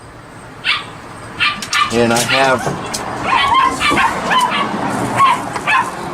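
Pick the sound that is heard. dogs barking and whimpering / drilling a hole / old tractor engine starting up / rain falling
dogs barking and whimpering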